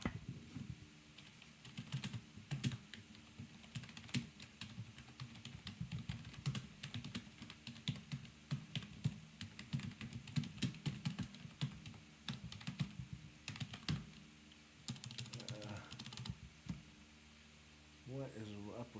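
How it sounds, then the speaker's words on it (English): Rapid, uneven clatter of keys on a computer keyboard, near and steady throughout, with brief pauses and some faint background voice toward the end. "What is up with my typing"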